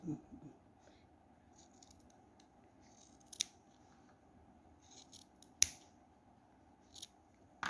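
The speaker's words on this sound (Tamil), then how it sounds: "அப்புறம் கீழ்ப்பகுதியில் வெட்டிட்டு" Scissors snipping yarn during a crochet home-decoration craft, three sharp, isolated cuts spaced apart over a quiet, low background hum.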